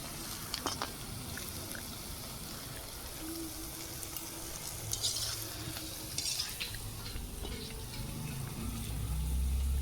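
Steady oil sizzle of frying palmyra palm fritters (taler bora), a continuous crackling hiss with occasional louder spits, fairly close, no talking.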